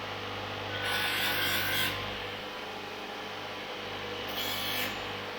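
Chrome on a 65-year-old vintage motorcycle fuel tank is polished, making two bursts of close, bright rubbing friction about a second long, separated by a quieter stretch over a low steady hum, with no talk.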